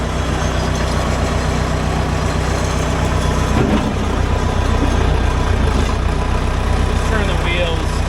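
A backhoe's heavy diesel engine idles close by after annual servicing, a steady low rumble that holds throughout with a brief mechanical clunk partway through, and a voice speaks over it.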